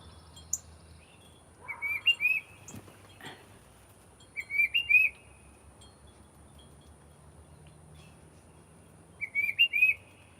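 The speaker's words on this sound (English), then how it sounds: "Y'all hear my birds?" Bird chirps come in three short bursts of high, bright song separated by quiet stretches, with a faint steady background hum.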